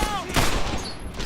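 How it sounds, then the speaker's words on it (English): An MG42 machine gun fires in the World War II video game Medal of Honor: Airborne, a short, loud, dense burst of rapid shots with crackling echo. "Oh, that's an MG42."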